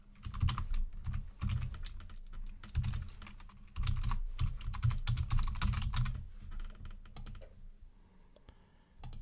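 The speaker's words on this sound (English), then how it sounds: "let's go ahead and type that in" Fast, steady typing on a computer keyboard, close and continuous with brief pauses, entering sign-up details for free WordPress hosting.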